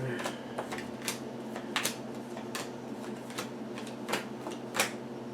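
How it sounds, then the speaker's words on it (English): Oracle cards are shuffled by hand in quick riffling bursts, crisp flicks and snaps repeating irregularly over a faint steady background hum. "I'm just going to shuffle them a little more"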